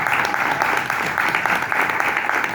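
Audience applause fills the hall after a speaker at an award ceremony, a steady dense clatter of many hands clapping continuously, fairly loud and close, with no voice over it.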